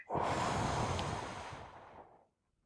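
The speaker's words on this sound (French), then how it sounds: "Une respiration. Un, deux, trois." A single deep breath drawn in and slowly released over about two seconds, close and clear, with no talking.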